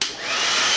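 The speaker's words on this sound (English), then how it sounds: "That's quite impressive for a cheap handheld vacuum cleaner." A cheap Bauer 20V cordless handheld vacuum cleaner runs on its third battery pack, giving a steady, close, high-pitched whine that holds level throughout with no talk over it.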